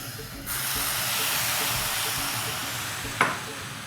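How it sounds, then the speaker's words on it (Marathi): Coconut and semolina modak filling with milk cream and saffron milk sautéing in a pan over low heat, a steady soft sizzling hiss with a brief sharper scrape or clink near the end. "आणि आता याला मंद असेवर अजून एक दोन तीन मिनटासाठी चांगलं परतून"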